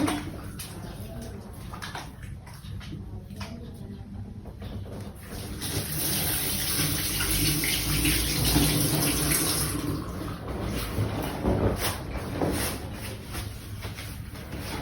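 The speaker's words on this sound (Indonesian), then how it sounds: "mencuci tangan di air mengalir menggunakan sabun" Running tap water splashing steadily into a sink, swelling louder in the middle as hands are washed with soap under the stream, close by with no talking.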